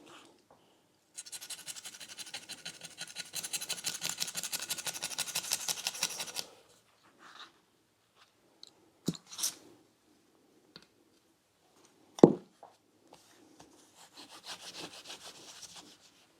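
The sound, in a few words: rust scraping off chrome exhaust silencer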